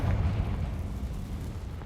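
A Confringo blasting spell in Hogwarts Legacy lands as a brief, deep rumbling blast that fades out, moderately loud and heard alone.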